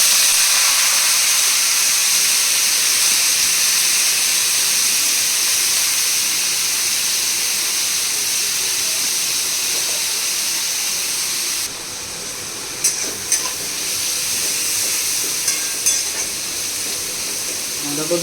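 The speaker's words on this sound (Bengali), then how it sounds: "তেল গরম হচ্ছে। আমি এবার এটা দিয়ে দেবো। আগে বাঁধাকপি দেওয়া হবে।" Cabbage frying in hot oil in a wok for egg chowmein: a steady, loud sizzling hiss that drops slightly partway through, then continues with a few faint clinks of stirring.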